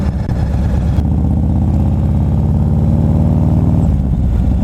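A Harley-Davidson Road Glide motorcycle engine idles close and loud with a steady, deep rumbling beat that holds evenly without revving.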